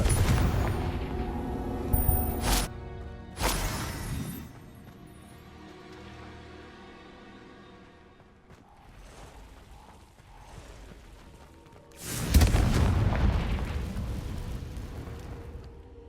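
In Hogwarts Legacy, a Confringo fire spell lands as a sharp blast with a booming burst, followed by a quieter stretch and then a second loud eruption that rumbles on, with no talking.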